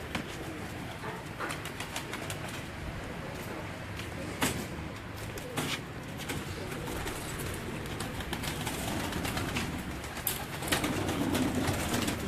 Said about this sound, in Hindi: ये भी हमारे जोड़ों वाले कबूतर हैं जो हमने अलग किए हुए हैं।